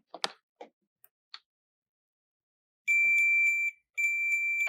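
A multimeter beeps continuously in two steady tones while continuity is checked on the tip conductor of a 1/8 inch TRS audio cable being repaired, following a few small taps and clicks.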